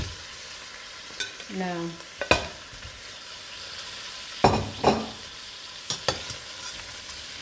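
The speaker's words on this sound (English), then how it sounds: "try to fry this a little bit" Boiled pork leg frying in a pan gives a steady sizzle with a few louder stirring scrapes, and a brief voice speaks over it.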